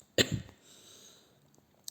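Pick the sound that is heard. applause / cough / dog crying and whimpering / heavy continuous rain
cough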